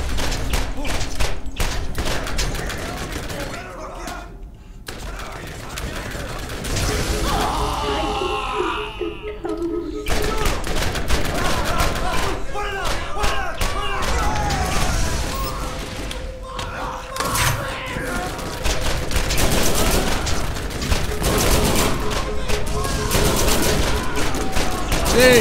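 Rapid, relentless gunfire from Borderlands inside a crystal cave, with dense volleys of shots and heavy thuds overlapping almost without pause, loud and continuous throughout.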